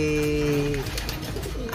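A pigeon gives a low, steady coo up close, trailing off into soft rustling and faint background noise.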